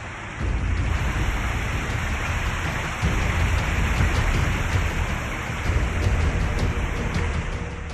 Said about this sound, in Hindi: उत्तराखंड में बारिश लगातार हो रही है।